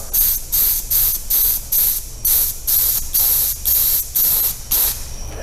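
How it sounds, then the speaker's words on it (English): Freon refrigerant spraying from an upside-down can through a valve pressed open with a stick, during an R12 to R134a AC conversion on a 1990 Mazda Miata: about ten loud, close hissing bursts in a steady rhythm, each roughly a third of a second apart. "press this valve in the middle till Freon comes out"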